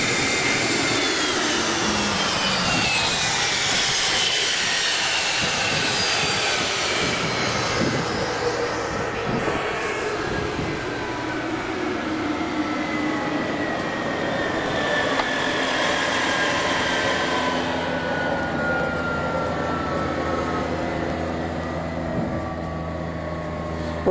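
A loud, steady Cessna Citation II jet engine roar fills the whole stretch, with a high whine slowly gliding downward as it runs.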